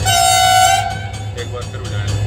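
A Pakistan Railways HGMU30 EMD diesel locomotive sounds a loud, close, multi-tone horn blast that cuts off after under a second, followed by a low engine hum and faint talk.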